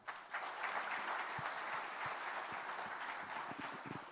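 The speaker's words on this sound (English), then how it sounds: "One more round of applause for this fantastic panel." Audience applause for a panel discussion on investment in Ethiopia, a full room clapping steadily and evenly, with some sharper nearby claps toward the finish.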